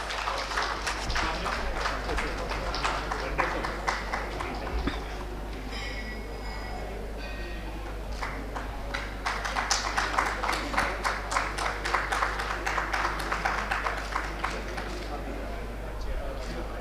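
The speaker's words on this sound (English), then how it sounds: "Can we please have a big round of applause?" Audience applause at an award ceremony during an urban infrastructure business summit, a sustained patter of clapping from a large crowd with a speaker's voice over it, and a steady low hum underneath.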